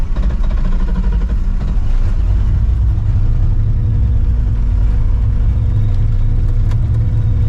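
A Ford Mustang with a boosted Coyote engine pulls away hard, its loud, continuous low engine roar and exhaust rumble dominating throughout with no talk.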